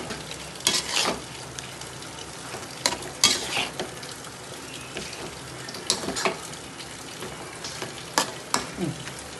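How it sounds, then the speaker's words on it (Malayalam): Fried chicken is tossed into a pan of softened onions and tomatoes, giving a soft sizzle under repeated stirring and scraping clatter at close range, with no voices. "അതിലേക്ക് ഞാനിതാ ചിക്കൻ പൊരിച്ചത് ഇടുന്നുണ്ട്."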